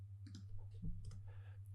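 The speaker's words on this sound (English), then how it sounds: "you'll notice as I type my name" Computer keyboard keys tapped in a short, irregular burst of clicks while a name is typed for a basic HTML page, close and fairly quiet over a steady low hum.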